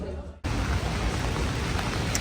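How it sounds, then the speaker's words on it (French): Rain falling on a New York street, a dense steady hiss that starts abruptly and stays loud and close throughout, no talk. "Il pleut"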